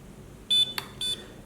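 Two short electronic beeps from a Hubsan Q4 H002 drone as video recording starts, about half a second apart, with a faint click between them, close and clear.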